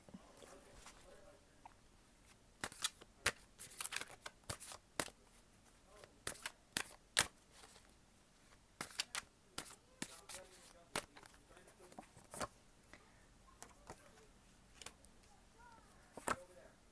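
Tarot cards are shuffled and pulled from the deck, making faint, crisp snaps and flicks at irregular intervals in a quiet room.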